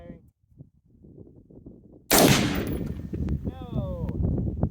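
A rifle shot sets off Tannerite packed under metal buckets and scrap, a sudden huge blast that breaks a quiet stretch and leaves clattering debris and rumble, with voices talking before and after.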